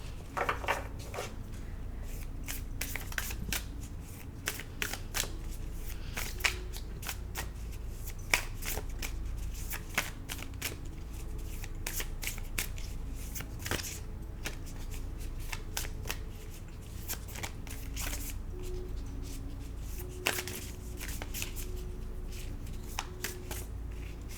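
Large tarot cards riffled and shuffled continuously for a long stretch, soft papery slaps and rustles in a steady uneven rhythm, close by with no talking.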